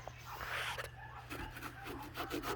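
A shop towel rubs over a car badge on a Genesis sedan in short, quiet scrubbing strokes with a soft rasping texture, repeated several times close to the mic.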